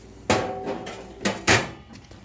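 A straight-pipe exhaust baffle from a Kawasaki Vulcan 900 is banged against the ground to press-fit it back in, giving two sharp metallic knocks about a second apart plus a fainter tap, close and alone.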